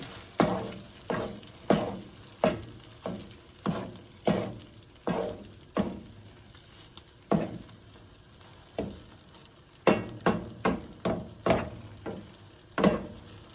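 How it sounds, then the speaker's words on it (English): Sloppy joe meat sauce sweetened with brown sugar sizzles in a pan while a spoon stirs it in steady, repeated scraping strokes, close and clear with no talking. "We will stir this up and cook it down."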